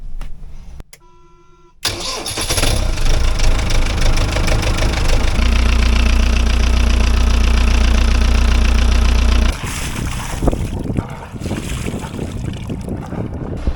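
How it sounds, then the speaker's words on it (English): A boat engine cranks, catches and settles into a loud, steady idle with a deep low drone, then the tone shifts to rougher running. "Now I'm going to start the engine and see how this thing behaves."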